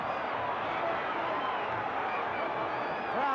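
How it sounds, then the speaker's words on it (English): A boxing arena crowd roars and cheers on Muhammad Ali against Oscar Bonavena, a dense continuous wall of voices with whistles rising near the end. "Crowd exhorting Ali on"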